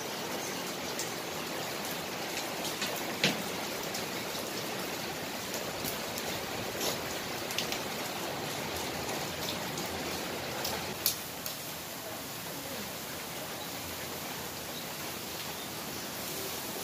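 Heavy rain pours steadily and loudly outdoors, a dense, unbroken wash of drops with a few sharper drip hits, near and continuous with no talking.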